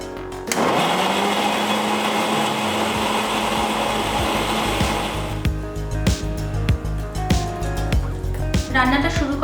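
A blender grinds cashews soaked in warm milk into a smooth paste with a loud, steady whirring roar for several seconds. It then stops and gives way to sharp clinks and knocks of the jar being handled.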